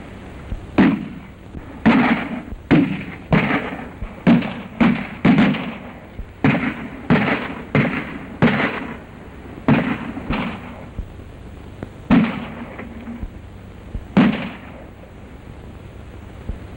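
Gunfire in a 1932 western film, a long irregular volley of sharp reports, some single and some in quick pairs, with booming echoes and a slightly muffled old-recording tone.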